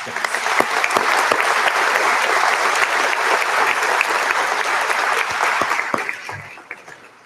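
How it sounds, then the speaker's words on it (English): Loud, sustained applause from a sizable crowd, dense and steady throughout before tapering off at the very end. "let's give you one more round of applause and congratulations"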